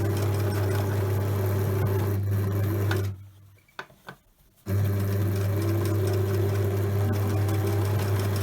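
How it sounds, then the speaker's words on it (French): A sewing machine stitches down the pleats of a fabric face mask with a steady close whir, pausing briefly midway for a short quiet gap before running on. "on va simplement coudre ici à 1 cm du bord de nouveau pour fixer les plis."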